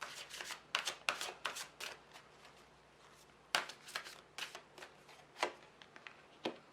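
A deck of Psychic Tarot Oracle cards is shuffled by hand up close: soft, quick riffling and slapping bursts in an irregular rhythm, quiet and alone without talk.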